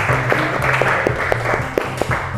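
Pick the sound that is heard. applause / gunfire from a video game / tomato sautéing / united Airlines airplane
applause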